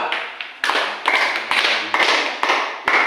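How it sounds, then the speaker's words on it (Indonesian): Classroom audience clapping for a student group after a short presentation, a few close, loud, irregular bursts of claps from a small group. "tepuk tangan dulu untuk kelompok 2"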